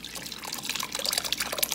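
Soaked tamarind liquid being strained for a Syrian Abu Bastí stew, giving a steady close trickle and drip of water with small splashes, no voices.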